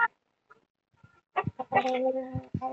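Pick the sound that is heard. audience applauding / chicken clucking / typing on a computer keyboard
chicken clucking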